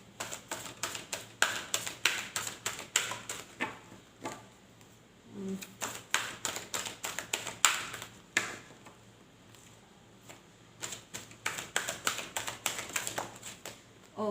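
Rapid bursts of papery slapping and riffling as tarot cards are shuffled, in clustered flurries with short pauses between, close and fairly quiet.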